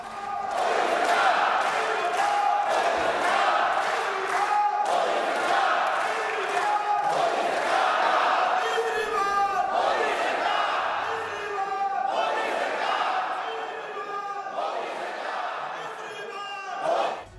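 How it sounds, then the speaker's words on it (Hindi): Members of parliament greet the Prime Minister with loud chanted slogans, rhythmic table thumping and clapping, a dense continuous crowd din with repeated vocal chants throughout. "उनकी टेबल थपथपाई, तालियां बजाकर नारे लगाए"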